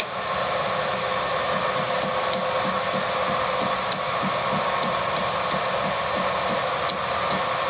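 Lathe cutting hard steel for a cylinder liner puller: a continuous whirring machine drone with a faint steady hum, punctuated by periodic light ticks or clicks at a regular rhythm, no talk.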